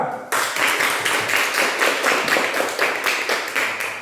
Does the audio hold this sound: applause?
yes